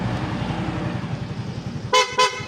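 Two quick, loud PIAA motorcycle horn honks near the end, following a stretch of idling motorcycle engine rumble close by.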